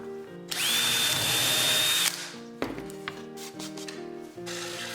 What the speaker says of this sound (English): I drilled holes so I could thread the blade.